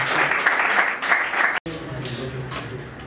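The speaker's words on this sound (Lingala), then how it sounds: "Sous vos applaudissements, s'il vous plaît." Audience applause at a ceremony awarding a diploma of merit, a loud, dense clatter of clapping for about a second and a half that breaks off abruptly, followed by murmuring crowd and talk.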